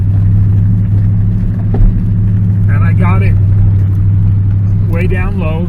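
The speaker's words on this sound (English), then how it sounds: "We're in four-wheel drive, low range, first gear" A Dodge Ram running rig crawls in four-wheel-drive low range, first gear, on a steep, rough mountain road, its engine a steady low rumble throughout, with someone talking over it in short bursts.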